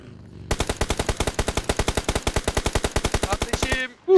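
Rapid automatic gunfire in a video game: a loud, evenly spaced burst of about thirty shots that runs for over three seconds, then stops abruptly.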